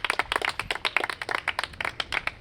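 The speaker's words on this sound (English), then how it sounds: "Clap it up for yourselves." Small group of people clapping for contest winners at a finale, a brief close burst of brisk, uneven hand claps with no talk.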